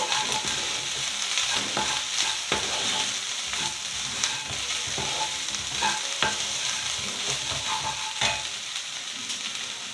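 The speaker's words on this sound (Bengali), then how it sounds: "এবার মাছটাকে এর সাথে ভালো করে একটু ভেজে নেব" Prawns for bhuso chingri fry steadily in a pan, a dense, even sizzle throughout with frequent soft stirring scrapes and clicks, close and alone.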